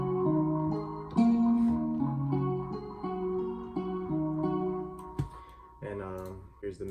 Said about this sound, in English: I picked out this guitar. It's called Water. Sounds like this.